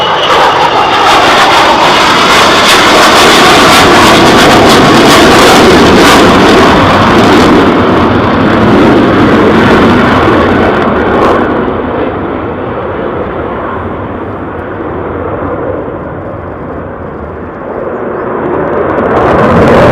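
A fighter jet roars past at RAF Lakenheath, its engine noise loud and broadband, swelling to a peak and then fading gradually as it moves away, with no voices.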